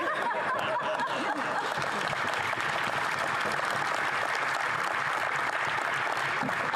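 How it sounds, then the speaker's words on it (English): Audience applause fills a hall during a tribute speech about Brian Mulroney, a dense, continuous wash of clapping mixed with scattered chuckles and murmurs, steady and moderately loud throughout. "Clapping a little bit too loudly at that."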